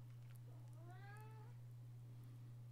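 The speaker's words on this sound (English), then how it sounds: "Kitty cat, stop, please." A single cat gives one rising-and-falling meow lasting about half a second. It is fairly close but quiet, over a steady low electrical hum, with no talk.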